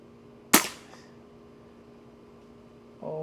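An Air Venturi Avenge X Classic airgun fires a single sharp, close shot, followed by a faint report and near silence before a brief sound at the end.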